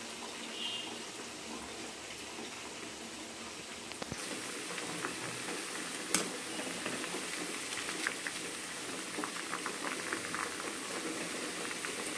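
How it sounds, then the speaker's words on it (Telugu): Okra sizzles and bubbles steadily in hot oil in a pan, a continuous close frying hiss with occasional small pops and a brief clatter of a utensil. "ఇలా కొద్దిగా ఫ్రై చేసుకోవాలి. అన్నీ ఒకేసారి ఫ్రై చేసుకోకూడదు, కొంచెం ఫ్రై చేసుకోవాలి."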